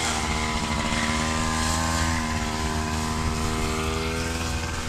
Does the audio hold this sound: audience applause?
no